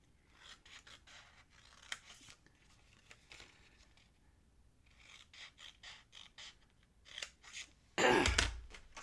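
Scissors make several quick snips through paper while someone cuts flaps for a craft Easter basket. The cuts are crisp and close, separated by quiet gaps, and a louder rustling burst comes near the end.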